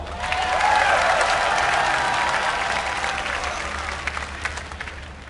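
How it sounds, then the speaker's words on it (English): Crowd at the StarCraft 2 MLG Grand Finals tournament cheering and applauding, a dense burst of clapping that swells early and then slowly fades while staying sustained across the whole stretch. "Make some noise for Naniwa"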